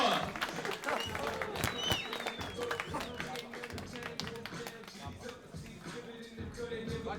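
An audience applauds at a two-on-two competition show as a new pair of contestants is called up, with a mix of sharp individual claps and scattered crowd noise running under a host's voice throughout.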